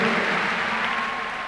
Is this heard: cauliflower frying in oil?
no